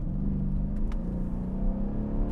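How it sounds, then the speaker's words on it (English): A 2012 Mercedes-Benz CLS 63 AMG accelerating, its engine a steady low drone heard from the cabin, with faint rising whir and a few light clicks over the hum. "so you can get a little bit of an idea of the acceleration of this vehicle"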